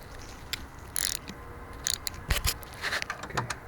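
A 10mm socket ratchet loosens a bolt on a Honda Ridgeline power steering pump, giving a few brief, quiet clicking and scraping bursts of metal mechanism noise close by.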